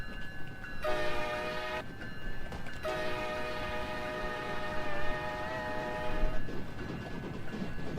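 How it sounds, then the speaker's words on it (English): Horn of a PR30 locomotive in a Roblox railway game, sounding in two long sustained blasts, the second longer, steady and fairly loud over a constant low rumbling background. "It's a PR30 locomotive."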